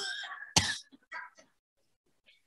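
A person coughs once sharply and loudly, followed by a couple of short, quieter throat sounds and rasps, close up with silence after.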